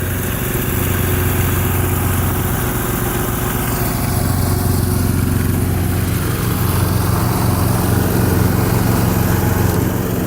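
A John Deere lawn tractor engine, a 210 or 316 model, runs steadily just after a cold start on New Year's, a loud continuous close-up drone with an even chugging pulse and no talk.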